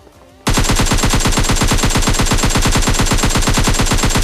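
Rapid automatic gunfire from PUBG Mobile Lite bursts in after a brief quiet start and rattles on loud and continuous, shot after shot in an unbroken rhythm.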